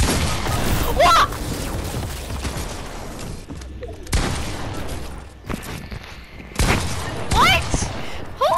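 Fortnite gunfire crackling in several sharp bursts and bangs, loud and close, with gaps of quieter game ambience and a voice talking between shots.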